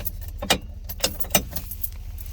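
A bunch of keys for an old Plymouth Road Runner jangling and clinking in bursts, bright metallic rattles repeating every half second or so against a low rumbling background.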